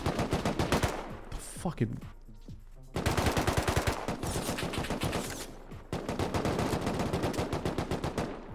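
Explosive-ammo gunfire in the Rust video game comes as loud rapid-fire bursts in three long volleys, with short pauses between them and a brief spoken exclamation in one gap.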